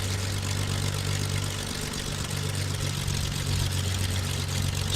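Aircraft engines idle at a steady low drone on the ground near Queenstown, New Zealand, continuous and fairly loud with no voices over it.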